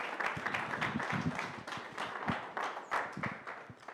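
An audience at an evening forum applauding, a steady stream of sharp claps from a modest crowd, somewhat distant and uneven, holding throughout.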